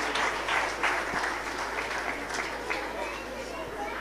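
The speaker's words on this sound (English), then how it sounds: "A big round of applause for our dear children." Audience applause for children at an annual day music academy event, steady clapping from a crowd heard at moderate distance, continuous throughout with faint chatter beneath.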